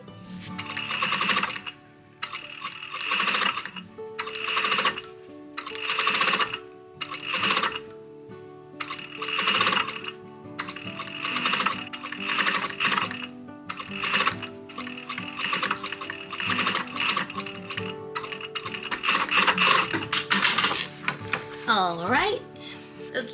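A sewing machine stitches boning channels into a corset in repeated short runs of rapid mechanical whirring separated by brief pauses, close and prominent, with music playing underneath.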